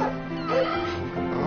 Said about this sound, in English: What is it you say to get the dogs going?